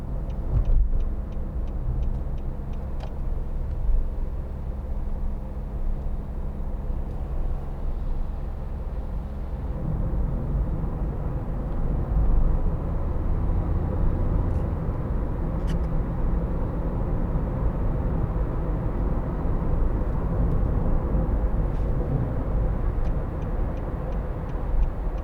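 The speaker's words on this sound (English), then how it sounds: "You can just let the car tick over and it will pull." A 2013 Nissan Note 1.5 dCi diesel engine ticks over while the car drives, a steady low rumble of engine and road noise running throughout at an even level with no one talking.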